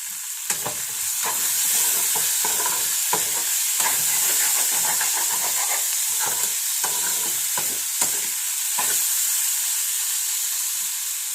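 Ivy gourd sizzles and hisses in a hot pan over high heat, with repeated scraping stirs of a spoon at irregular intervals.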